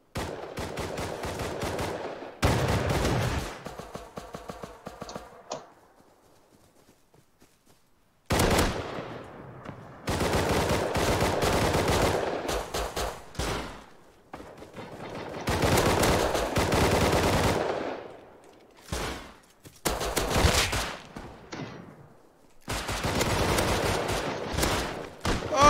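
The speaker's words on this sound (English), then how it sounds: "I hear so much shooting going on in this building." Rapid automatic gunfire from the video game Rust fills the scene in loud, dense bursts of several seconds each, broken by short silent gaps, with repeated shooting inside a building and no talking over it.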